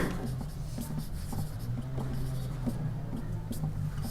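Hand writing fills a table during a maths lesson, a steady scratching of pen strokes with short pauses, close and continuous, with no talking.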